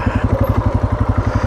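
An off-road vehicle engine with a CVT gearbox pulses in a fast, regular throb up close as the throttle is worked on a bumpy rocky track, loud and alone for a brief moment.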